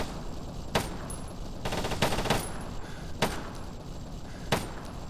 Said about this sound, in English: I should just fire for the sake of it.